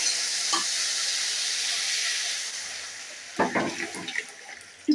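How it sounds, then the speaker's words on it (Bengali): Dal curry sizzling steadily in a pan, a continuous close frying hiss, with a few scraping stirs and utensil knocks toward the end. "এবার একটু নাড়িয়ে নাড়াচাড়া করে ভালো করে এর মধ্যে জল দিয়ে দেবো।"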